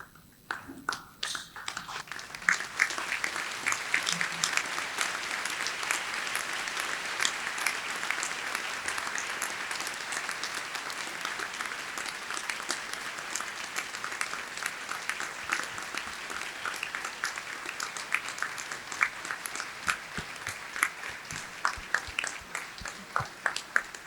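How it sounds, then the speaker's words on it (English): Graduates at a Monash Malaysia graduation ceremony applaud to thank their parents and friends, a sustained hall-wide clapping that rises quickly and carries on steadily, crisp individual claps standing out near the end. "just by applause, show your appreciation, and we will join with you in thanking them."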